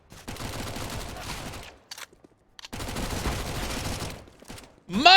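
Pistol gunfire during a Counter-Strike match, two dense stretches of rapid crackling shots separated by a brief silence, with an announcer's voice mixed in.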